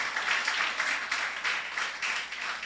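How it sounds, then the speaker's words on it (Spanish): A church congregation applauds together during a worship service, a steady wash of many hands clapping with gentle swells, fairly close and with no voices on top. "bien puedes darle una fuerte ofrenda de aplauso"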